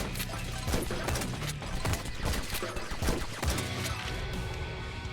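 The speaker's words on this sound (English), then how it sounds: "This double shotgun is the pump action shotgun" Rapid bursts of pump-action and double-barrel shotgun fire in a zombie survival video game, dense overlapping blasts and impacts repeating throughout at steady loudness.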